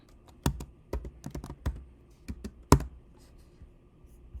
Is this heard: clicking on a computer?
yes